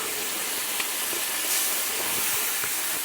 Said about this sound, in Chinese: 2罐啤酒没过食材